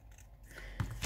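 Scissors snip loose threads and paper bits from a handmade traveler's notebook journal, two quick close cuts following a quiet pause.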